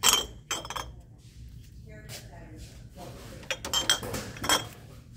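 Small glass vases clink and knock as they are handled on a shop shelf among fall decor, a few sharp bright taps scattered over several seconds beneath ongoing talk and store background noise.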